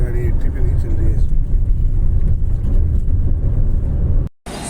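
A Tata Safari 2022 cruises along a highway beside a canal, its steady low road and engine rumble droning continuously and loud close up, with a brief dropout near the end.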